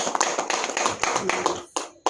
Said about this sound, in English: So we clap for them or we clap again